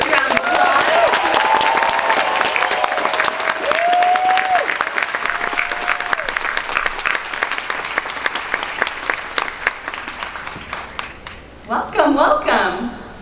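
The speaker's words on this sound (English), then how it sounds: "Please give a huge round of applause." A packed Hall H audience at San Diego Comic-Con roars with loud sustained applause and cheering to welcome a Toei Animation producer at a Dragon Ball Super panel, with a host's amplified voice over it before the clapping thins near the end.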